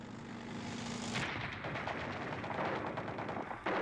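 Machine gun fire heard as a dense rattling burst, loud and continuous with a rapid pulsing rhythm, a brief low drone fading out at the start and a sharp new burst near the end.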